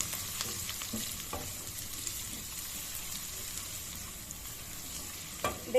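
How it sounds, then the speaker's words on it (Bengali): Chopped potatoes and slit green chillies frying in hot oil for red amaranth greens, a steady close sizzle with occasional stirring clicks and scrapes, no voices. "এই দুটো দিয়ে ভালো করে ভেজে নেব"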